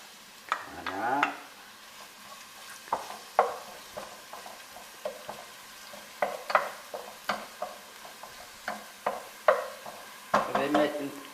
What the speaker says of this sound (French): Je vais faire revenir l'oignon et puis l'ail.